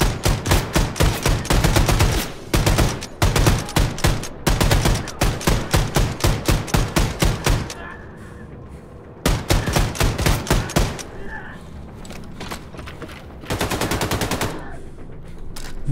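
Automatic weapons fire in Wolfenstein: The New Colossus comes in loud, rapid bursts of machine-gun shots separated by short pauses, with quieter stretches between volleys.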